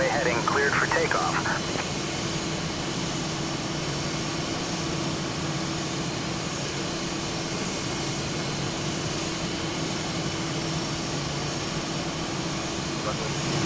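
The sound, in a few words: Boeing 777-300ER taking off in a flight simulator video game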